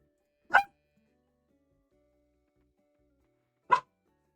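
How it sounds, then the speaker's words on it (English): A dog barks twice in the background, each bark a single sharp burst about three seconds apart, with near silence between. "Man, my dog is being noisy."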